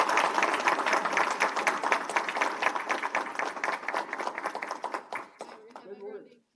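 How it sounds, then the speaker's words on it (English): Crowd applause at a city council meeting as kids accept a trophy: dense, steady clapping for about five seconds, then it fades out and a few voices are heard. "Let's give them applause."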